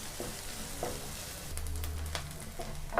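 Onion and dried red chilies sauté in a pan for beetroot poriyal, giving a quiet, continuous sizzle broken by a few soft stirring scrapes and clinks.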